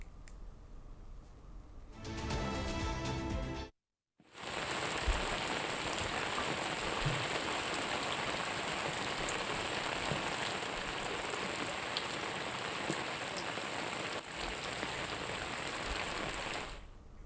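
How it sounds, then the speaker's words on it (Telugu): Heavy rain pours down in Hyderabad, a loud, steady wash of drops on surfaces continuing without break after a brief dropout near the start, with no talk. "హైదరాబాద్ లో పడుతున్న వర్షాలకు సంబంధించి పూర్తి సమాచారం మా కరెస్పాండెంట్ విశాల్ లైవ్ లో అందిస్తారు."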